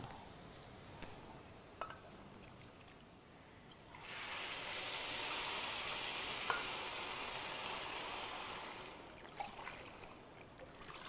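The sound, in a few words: chicken frying, popping and sizzling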